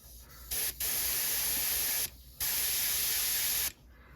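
Airbrush spraying gold paint onto a crawfish fishing lure, a steady close hiss in two long bursts with a brief pause between them, cutting off near the end.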